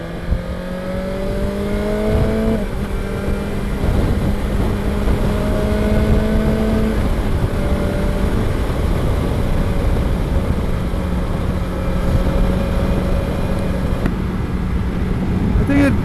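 A second-generation BMW S1000XR adventure touring motorcycle accelerates hard on the road, its engine tone rising through gears beneath loud, steady wind roar.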